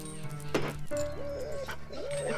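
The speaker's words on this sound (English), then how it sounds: "Watch out for the dog." A dog in the Monaco video game yips and barks a few times in short bursts, mixed with whimpering tones over steady, tonal game music.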